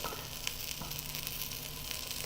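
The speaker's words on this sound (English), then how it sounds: "the roast is searing up nice" A roast searing in an all-in-one cooking unit, a steady close sizzle and crackle of frying with faint pops, no voices.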